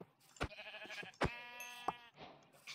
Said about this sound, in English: I think it's time I kill this sheep so I can